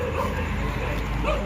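Several dogs at an abandoned canteen yip and bark in short bursts, mixed with faint whimpers, while people talk nearby.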